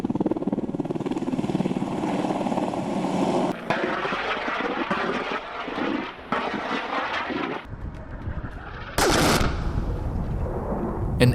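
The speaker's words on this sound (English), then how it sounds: "AH-64 Apache attack helicopter" AH-64 Apache attack helicopter rotor noise mixes with rapid bursts of automatic gunfire, loud and close, with intermittent roaring passes.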